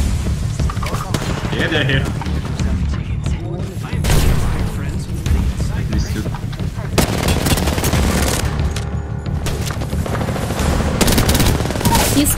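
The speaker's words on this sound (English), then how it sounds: "They're shooting the dragon, let's f***ing kill these guys." Rapid automatic gunfire in the battle royale game Apex Legends rattles in dense, continuous bursts with heavy booms, loud and close, while a player talks over the shooting.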